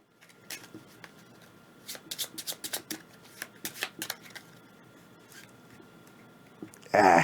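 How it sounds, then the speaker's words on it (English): Cards from a board game deck being shuffled by hand at close range, with bursts of riffling and tapping in uneven clusters, ending in a brief loud burst of handling noise. "So we'll shuffle those up."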